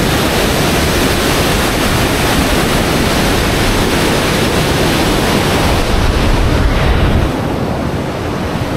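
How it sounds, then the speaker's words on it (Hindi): Fast, heavy water rushes at Mandira Dam on the Sankh river near Rourkela, Odisha, a loud, close, unbroken roar that holds steady throughout and eases slightly near the end. "बहुत स्पीड रे पानी"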